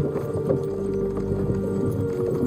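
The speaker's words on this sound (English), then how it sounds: "don't you think maybe we could make the horses go a little faster?" Horses' hooves clip-clop at a steady walking pace along a road in Kingdom Come: Deliverance II, blended into a dense, continuous layer of game ambience and music.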